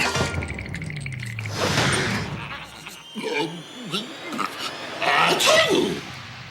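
A single loud sneeze bursts out nearby, followed by snuffling and a short reply in speech.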